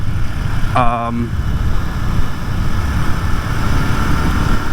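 A 2023 Royal Enfield Continental GT 650 motorcycle engine hums low and steady while riding, with constant rumble and wind noise throughout and a brief tonal chirp near the start.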